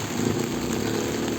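Heavy rain pours down steadily, a dense, loud, unbroken hiss and roar with no separate drops standing out, and no voices over it.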